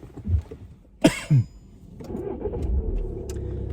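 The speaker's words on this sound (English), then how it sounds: "Okay, so start your car." Car engine starting at a driving test center parking lot: a brief cranking burst near the start, then the engine catches and settles into a steady low idle, fairly close.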